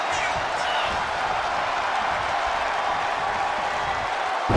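A capacity arena crowd in the wrestling game WWE 2K25 cheers in a steady, dense roar throughout, with commentary voices over it.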